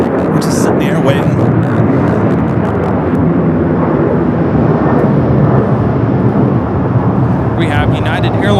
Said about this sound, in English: We have United Airlines 2085 taking off to Houston Intercontinental on the 737-900ER.